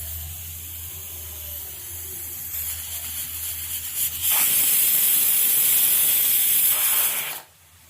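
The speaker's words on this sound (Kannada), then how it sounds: "ಫ್ರೆಂಡ್ಸ್, ಇವಾಗ ಇದು 1 ವಿಜಿಲ್ ಆಗಿದೆ" A pressure cooker holding dal and vegetables for sambar releases steam, with a soft hiss building to a loud sustained whistling blast lasting about three seconds before it cuts off.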